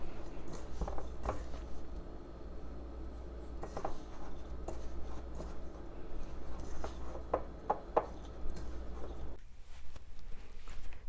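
Hands knead and mix solid bubble bath ingredients in a bowl, giving soft rubbing and scraping sounds with irregular light taps. The sound is faint and close over a low steady hum.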